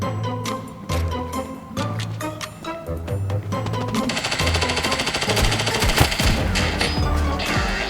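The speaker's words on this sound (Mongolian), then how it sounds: "Хаашаа буудаад байгаа юм бэ?" Rapid bursts of automatic gunfire in a mobile shooter game, loud and continuous, with dense overlapping shots and game effects filling the whole stretch.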